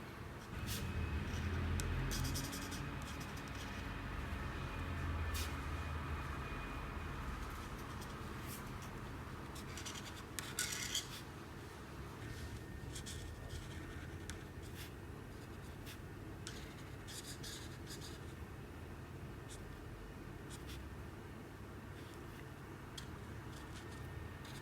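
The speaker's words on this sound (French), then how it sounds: "j'utilise du Cool Grey 7 pour colorier tout le reste au niveau de ce qui est en gris" A Cool Grey 7 marker colours a Fortnite x Jordan Dunk sneaker drawing, its tip rubbing in steady, close strokes with scattered brief squeaks over constant low room noise.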